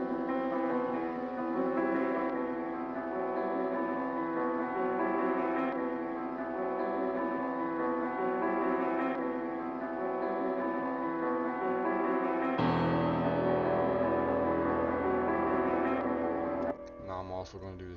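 A sampled melody for a trap-style beat, processed through a vinyl emulation plugin on its 1960 preset with scratch and warp turned down, plays as a dense, muffled, bell-like loop, steady and moderately loud before shifting tone near the end.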